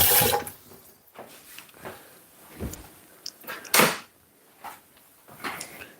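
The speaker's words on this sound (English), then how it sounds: "Just giving my hand and the knife a bit of wash." Water splashes in short bursts as hands and a kitchen knife are rinsed under a running tap, uneven close sloshes and knocks separated by quieter gaps, no talking.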